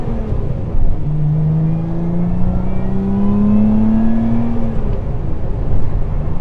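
A Lotus Emira pulls hard in tour mode, its engine note climbing steadily through the revs in one long, rising drone with a low throaty rumble underneath, heard loud from inside the cabin with nobody speaking.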